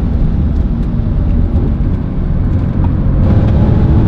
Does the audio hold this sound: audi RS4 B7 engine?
yes